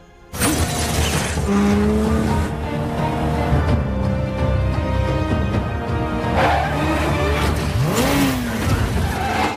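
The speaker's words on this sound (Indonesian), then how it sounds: "dengan modal menyetir ugal-ugalan, dia berusaha membawa Frost sejauh yang dia bisa" Car driven recklessly in the action film Safe House, a loud continuous engine roar with tires squealing and skidding, glass shattering near the start, and rising squeals near the end.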